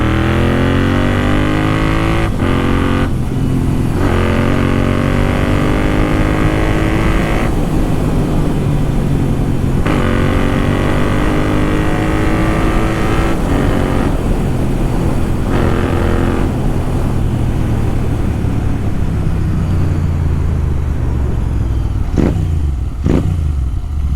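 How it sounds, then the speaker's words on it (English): Royal Enfield Interceptor 650 motorcycle with a Red Rooster aftermarket exhaust revving hard on an open road, loud and close, rising through gears with throaty roars and brief drops between pulls. "this is how my bike sounds"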